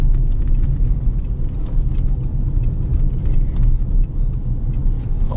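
A 2020 Lada Granta with an automatic gearbox drives on a snowy road near Orenburg, giving a steady low engine and tyre rumble heard from inside the car with faint crunching clicks, with no talk over it.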